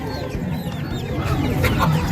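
Chickens cluck and chatter close by in a short burst, with scattered bird calls over steady outdoor background noise.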